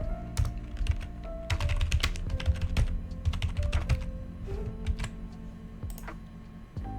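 Keys clatter steadily on a computer keyboard as a short phrase is typed out, close and clear, in quick irregular bursts with brief pauses between them.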